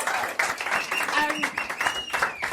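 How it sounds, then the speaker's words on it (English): A pub audience claps for a guest on a live podcast, a short burst of applause heard close up. A host's voice talks over the clapping throughout. "Give him a round of applause."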